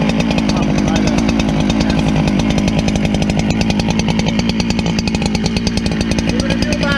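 A chainsaw engine on a chainsaw mill runs steadily and loudly up close, holding a continuous buzzing drone with a rapid rhythmic pulse throughout.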